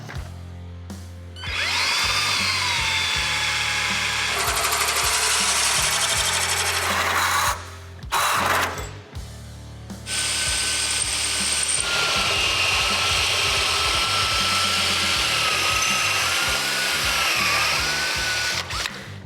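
Power drill whines loudly through the sheet metal of a 1972 Camaro in long bursts, briefly stopping and restarting, with grinding, ratcheting tones and no voices.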